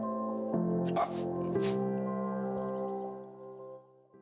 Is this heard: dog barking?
yes